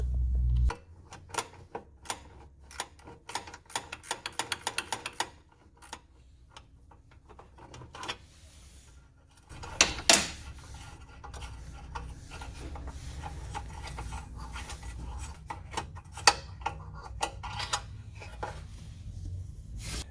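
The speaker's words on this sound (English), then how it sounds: "We're going to go ahead and remove this 10mm bolt along that heat shield." A 10mm bolt is worked loose from the heat shield of a SAAB during a secondary air injection delete, with rapid ratchet-like ticking in bursts, then steadier scraping and rubbing of metal close by, no talking.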